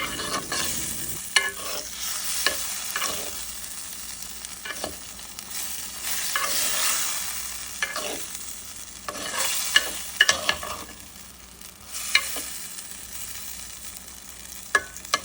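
Vegetables stir-fried in a pan for a fish curry with garden aubergine and tomato, giving a steady hissing sizzle with repeated clattering scrapes of a spatula throughout, close and prominent with no talk.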